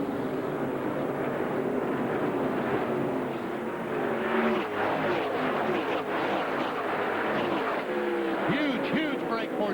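Stock cars in a NASCAR race at the Indianapolis Motor Speedway during the 2001 Brickyard 400 roar together in a dense, continuous engine drone, with occasional pitch sweeps as cars pass and voices running underneath.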